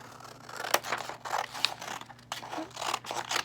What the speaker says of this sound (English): stack them together, and I'll cut that end off